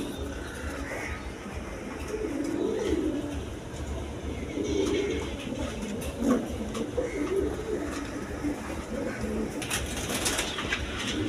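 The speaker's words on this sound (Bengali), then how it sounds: "দর্শক এখানে দেখেন আরও বিভিন্ন ব্রিডের কবুতর আছে" Pigeons of various breeds, kept in pairs with their chicks, cooing in low repeated murmurs amid a noisy, close background with occasional wing flaps.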